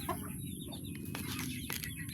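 Chickens cluck softly and irregularly nearby, with a few brief higher calls over steady outdoor background noise.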